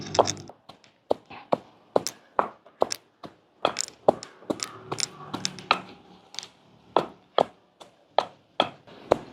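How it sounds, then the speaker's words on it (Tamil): Dried fish and grated coconut pounded in a mortar for a Jaffna sambal, a run of sharp, close thuds at a steady, slightly uneven rhythm with short pauses, no talk. "இப்படி கொஞ்சம் கொஞ்சமா தேங்காய் பூவை போட்டு நல்லா இடிச்சு கொள்வோம்"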